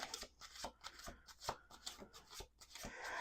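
Tarot cards being shuffled in quick riffling bursts, close and crisp, repeating several times with short pauses between.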